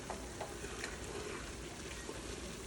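Flour is stirred into a pot of chicken wild rice soup and cooked out, a steady close scraping and soft sizzling churn running continuously with no pause.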